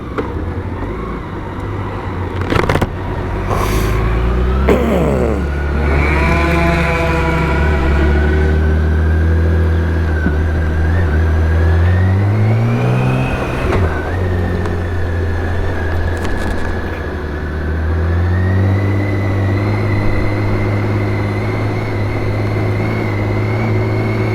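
A BMW K1600 GTL motorcycle rides along a road in southern Spain, its engine a loud, continuous drone close to the rider that climbs and falls in pitch through gear changes, with steady wind and road noise underneath.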